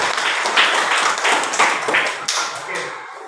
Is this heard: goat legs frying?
no